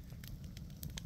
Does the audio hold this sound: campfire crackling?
yes